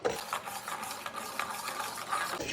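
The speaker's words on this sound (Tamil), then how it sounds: "ஆட்டின அரிசியை ஊற்ற ஒருத்தர் கலக்கிக்கணும்." A spoon scrapes and stirs ground black kavuni rice through thick jaggery syrup for halwa, a soft continuous swishing with faint rubbing strokes close by.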